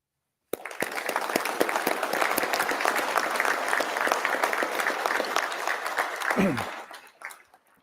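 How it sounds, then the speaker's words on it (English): Graduating law enforcement basic training class and audience giving instructors and staff a round of applause at a ceremony, a sudden start into loud, sustained clapping that fades near the end, with a voice or two briefly heard under it. "show these instructors as well as the staff members our appreciation with a round of applause"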